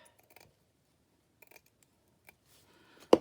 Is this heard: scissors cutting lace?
yes